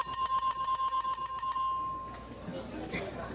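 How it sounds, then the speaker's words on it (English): The 'You've Just Won' bell on The Price Is Right game show in 1985: a rapid string of bright, even bell strikes rings loudly for about two seconds, then fades into studio crowd noise. "That's the You've Just Won bell"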